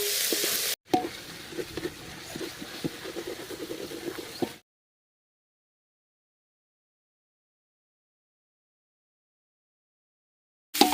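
Chopped garlic sautéing in oil in a pan for a Chettinad-style country crab rasam, a steady close sizzle with light stirring scrapes for about four seconds before cutting to silence.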